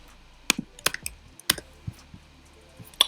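Typing on a computer keyboard at a desk: a handful of separate, crisp key clicks in an uneven rhythm, close and clear, with near silence between strokes.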